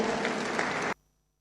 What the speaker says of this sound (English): Can we please clap hands for